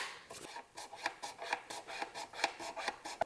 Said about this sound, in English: So clean the glue. And the little scraper is fabulous for this. You can clean the glue right up to the fret.